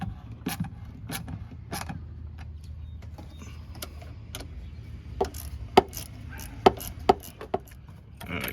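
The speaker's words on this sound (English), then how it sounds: "Let's tighten up these clamps." Hose clamps on a Honda Pilot air intake hose are tightened by hand, giving a series of sharp clicking and ratcheting ticks at irregular intervals, close by, over a low steady hum in a quiet garage.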